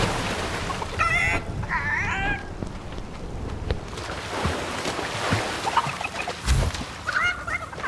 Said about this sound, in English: We now got the chicken.